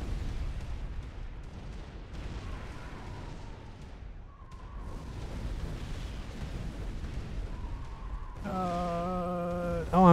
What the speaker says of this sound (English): There's so many bombs.